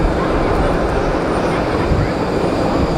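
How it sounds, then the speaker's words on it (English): Gulfstream business jet at an airport, a steady loud engine roar filling the whole stretch without letup. "Oh, that's a nice Gulfstream."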